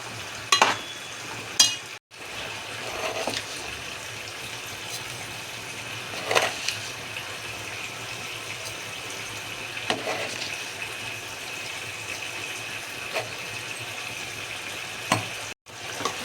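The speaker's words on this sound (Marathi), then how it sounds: "साखर टाकल्यानंतर सुद्धा आपण हे मिश्रण पूर्ण हलवून घेणार आहोत" A carrot halwa mixture with melted khoa and sugar sizzles in a pan while a spoon stirs it, a steady frying hiss broken by occasional scraping strokes, with no talking.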